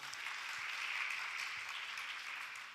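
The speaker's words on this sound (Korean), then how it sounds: "다시 한번 박수 부탁드립니다." A church congregation at a Friday late-night prayer meeting claps steadily for a few seconds, a soft, even patter of applause heard from a distance that eases off at the end.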